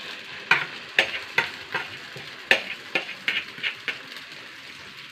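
A beaten egg omelette fries in coconut oil under a steady sizzle, with about a dozen crisp rhythmic tapping and scraping strokes of a utensil against the pan, close and fairly loud.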